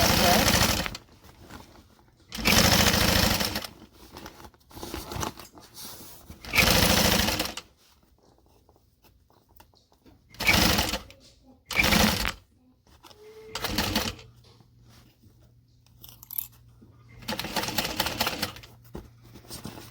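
A sewing machine stitches a 3/8-inch seam in fast, loud bursts of rapid mechanical clatter separated by quiet pauses, with a person speaking softly between the runs.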